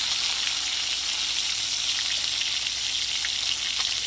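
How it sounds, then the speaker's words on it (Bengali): Fish frying in a pan, making a continuous, even, close sizzle with a bright hissing crackle that stays steady throughout, with no talking. "আমার মাছটা প্রায় ভাজা হয়ে এসেছে, আর একটু অল্প আমি ভেজে নেব খালি।"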